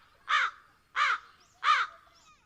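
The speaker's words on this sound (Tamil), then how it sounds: "என்ன வீட்டு மேல காக்காயா?" A crow caws three times in even succession, each harsh call loud and close against a quiet background.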